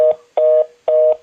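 Three short, loud dual-tone beeps from a home phone keypad sound in quick, even succession, each clean and close with brief gaps between them.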